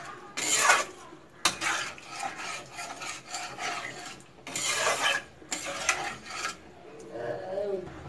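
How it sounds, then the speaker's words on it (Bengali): Water stirred into a spiced egg and cauliflower curry in a pan, with repeated rasping scrapes of a spoon across the pan bottom in uneven bursts and pauses, close and fairly quiet; no talking. "জলটা ভালো করে মশলার সাথে মিশিয়ে দেবো।"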